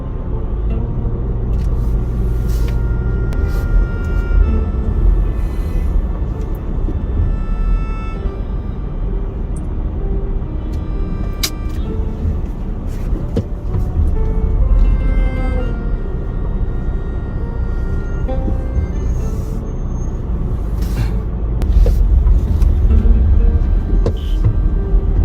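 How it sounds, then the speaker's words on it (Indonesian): Steady low road rumble of car traffic stuck in a jam on the streets of Mecca, continuous engine drone with scattered faint horn-like tones and a few sharp knocks, no talk. "Macet ya kota Mekah ya."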